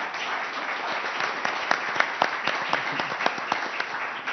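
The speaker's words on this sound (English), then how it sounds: "let's give our candidates a round of applause" A live audience applauds candidates at a council candidate forum, a steady wash of clapping with sharper individual claps standing out throughout, moderately loud and sustained.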